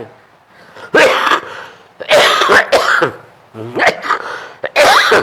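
Several harsh, loud coughs in quick bursts close to the listener, separated by brief pauses and ragged breaths.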